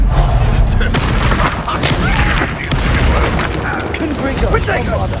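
Repeated Confringo blasting-spell explosions in the Hogwarts Legacy video game, loud booming bursts and thuds thick with crackling debris, with a voice shouting spell names over the combat.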